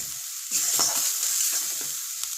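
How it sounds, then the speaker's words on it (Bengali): Spice paste with tomato sizzles in a hot pan for a tilapia curry, a steady hiss with soft stirring scrapes layered over it, close and continuous with no voices. "চলো এখন মশলাটা কষে নিই"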